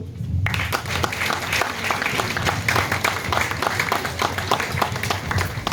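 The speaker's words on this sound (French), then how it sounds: "Je pense qu'on doit pouvoir les applaudir." Steady applause from an audience, many hands clapping continuously for several seconds at a lively, even level.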